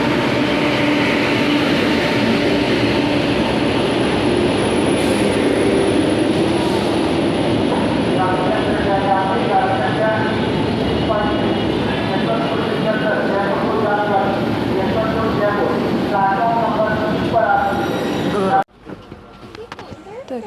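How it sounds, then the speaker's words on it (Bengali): The Howrah–Ahmedabad train pulls into a station with a loud continuous rumble and rattle of passing carriages and a faint horn. The noise runs steadily before dropping away abruptly near the end, with crowd chatter beneath. "তো দেখো শেষমেশ ট্রেনের দেখা মিললো"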